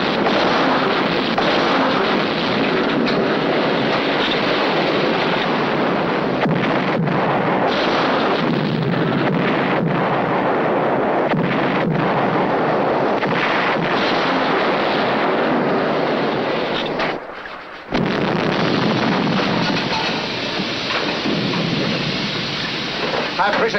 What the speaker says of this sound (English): Fire full depth charge pattern.